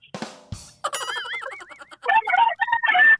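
A chicken clucks upstairs in a house, a short burst of squawks and warbling calls, fairly close and clear, with no talking.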